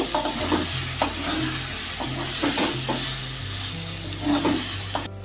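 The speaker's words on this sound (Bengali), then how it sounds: "আলু সমেত মশলাটা খুব ভালো করে কষিয়ে নেব" Boiled potato pieces sautéed with spice masala in a pan for Mughlai paratha curry, making a close, steady sizzle broken by repeated scrapes and clatters of stirring, and no speech.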